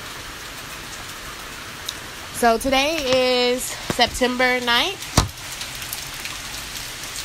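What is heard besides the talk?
rain falling outdoors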